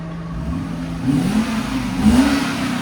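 Stock-muffler 4.3L V8 in a 2006 Lexus SC 430 revving in two short rising blips over a steady idle, moderately loud and close, with no talking.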